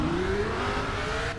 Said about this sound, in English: That car was super loud